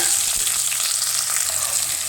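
Chopped onion and tomato fry in a pan for a snake gourd and lentil curry, giving a continuous close sizzle and crackle with no talking.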